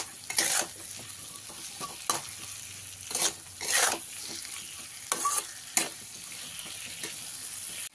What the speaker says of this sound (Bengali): দিয়ে আবারও ভালো করে ভেজে নেব আলুটাকে।